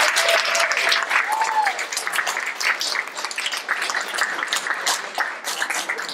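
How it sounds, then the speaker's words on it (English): Panel discussion audience gives a sustained round of applause, many hands clapping in a dense, even patter that holds steady and then eases slightly. "let's give another round of applause to David and Edgar"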